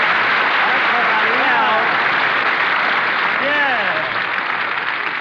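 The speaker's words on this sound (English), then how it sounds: "shower me with that sun-kissed applause" Studio audience applause on an old-time radio comedy show, steady broadband clapping filling the whole stretch at a fairly loud level, with a voice briefly sounding over it twice.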